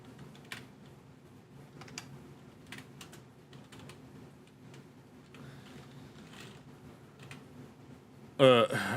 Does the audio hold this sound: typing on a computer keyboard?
yes